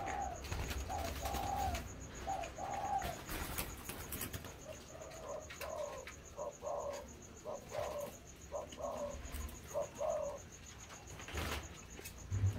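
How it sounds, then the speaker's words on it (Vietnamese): Thai black dove cooing up close in a series of soft, low, rhythmic coo phrases, repeated in groups over a faint hiss and quiet background noise, with a steady high tone running beneath and no talk. "Thái đen này là đã gáy gù liên tục"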